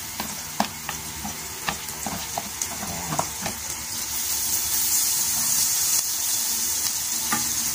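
Garlic sizzles steadily in melted butter in a pan, with a continuous hiss and occasional sharp pops and crackles, close and moderately loud, and no talking.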